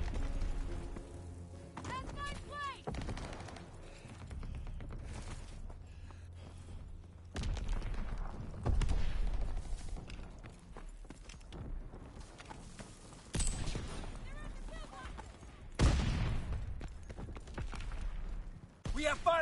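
Gunfire crackles in a hardcore team deathmatch of a PS4 shooter, coming in several loud bursts separated by quieter gaps, with game announcer voices and other chatter heard between and over the shots.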